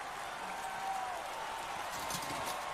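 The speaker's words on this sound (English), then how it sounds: "Why are they applauding?" A crowd in The Witcher 3: Blood and Wine claps steadily throughout, a dense, continuous patter of applause heard at a moderate distance.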